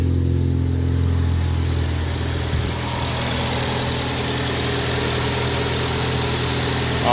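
A 2014 Ford Focus ST engine with new NGK one-step-colder spark plugs idles steadily and smoothly, a close, continuous mid-pitched hum with no talking.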